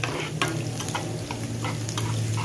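Crushed garlic fries in hot oil, a close steady sizzle broken by repeated scraping stirs of a spoon around the pan.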